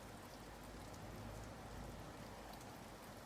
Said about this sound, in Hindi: अभी भी पानी टिप टिप करके गिर रहा है।